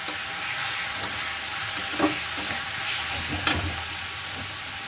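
Ginger-garlic paste fries in a pan while being stirred, a close, continuous sizzle broken by a few sharp scraping knocks of the spoon against the pan. No voices.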